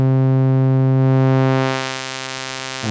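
A Eurorack synthesizer tone passes through a bandpass filter, a sustained buzzy note whose bright harmonics sweep upward as the filter shifts, briefly dipping in level before a short click near the end.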